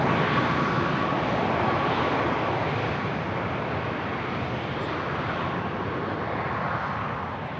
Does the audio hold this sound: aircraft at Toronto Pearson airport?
yes